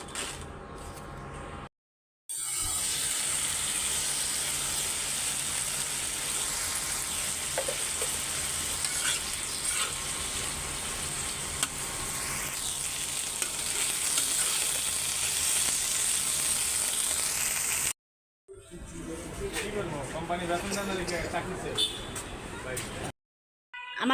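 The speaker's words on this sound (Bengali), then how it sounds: "বেশি করে মরিচ ভাজা নিতেছি, কারণ ঝাল ঝাল করে সব ভর্তা বানাবো।" Dried chilies fry in a pan for bhorta, a steady broadband sizzle running continuously with brief gaps and some stirring, close and fairly loud; no one speaks.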